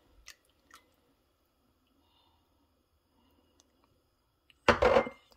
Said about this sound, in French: Je rajoute de l'huile rouge.